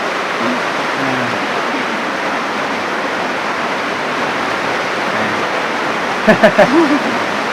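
Heavy rain pours onto a house roof, a dense, steady roar that fills the whole stretch, with a few brief knocks near the end.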